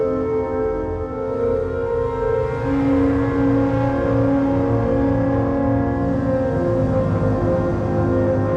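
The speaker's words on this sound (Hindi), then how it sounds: "यूं ये ट्रैक्टर टोटल 22 लोगों को झील की तरफ लेकर जा रहा था" A tractor hauling a wagon loaded with 22 people toward a lake in the Cholistan desert, its engine a loud, steady, close drone with a deep harmonic hum that holds throughout, no voices.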